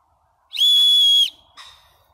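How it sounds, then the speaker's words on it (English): A loud, shrill whistle blast lasting under a second, followed by a shorter, weaker toot, blown on a plastic knife sheath that doubles as a whistle. "I do like that the sheath doubles up as a whistle."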